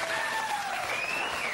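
Studio audience applauding at a comedy show, a steady wash of clapping that holds evenly throughout at moderate loudness.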